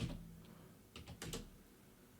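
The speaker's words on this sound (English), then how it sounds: "just type it in again" Quiet typing on a computer keyboard, a few soft scattered keystrokes clustered in the middle with short gaps between them, heard close and alone over a faint background hum.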